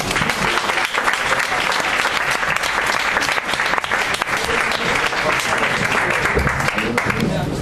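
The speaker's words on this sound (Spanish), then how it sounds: "Un aplauso para ella." Audience applause for a speaker at a talk, loud sustained clapping from a crowd filling the whole stretch, with some voices mixed in underneath.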